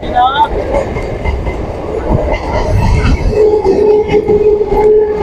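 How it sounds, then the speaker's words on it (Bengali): A train rolls past a closed railway level-crossing gate, a steady loud rumble of railcars with faint wheel squeal, continuous through the whole stretch while people nearby talk over it. "একটা ট্রেন বেরিয়ে গেল বাদিকে একটা স্যালারিতে যাচ্ছে"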